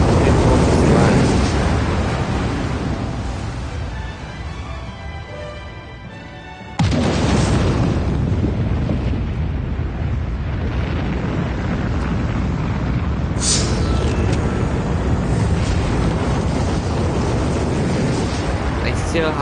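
Heavy bomb explosions from the Civilization 6 strategy game, with a deep sustained roar, a sharp new blast about a third of the way through, and continuous rumbling after it.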